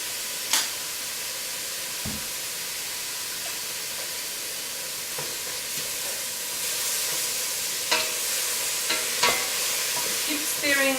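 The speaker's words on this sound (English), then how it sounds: "Keep stirring it." Chicken and vegetables fry in a pan for a pho, a steady close sizzle and hiss with intermittent scraping and clinking as the food is stirred.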